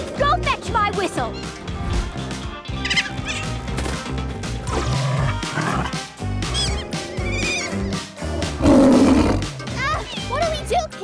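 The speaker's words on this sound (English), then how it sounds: "It's the lion. His roar is really loud" Cartoon lion roars loudly in bursts amid a busy animated soundtrack, with characters talking and reacting around the roars.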